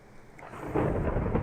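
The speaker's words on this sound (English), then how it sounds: "Oh, it really is raining out there. I just heard thunder." Thunder rumbles in a rainy storm in the video game Celestial Dreams, a brief low roll swelling up over the hiss of steady rain.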